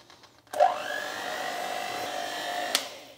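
An electric mixer beating a cookie filling mixture switches on abruptly with a steady, close whirring whine, runs for about two seconds and then cuts off.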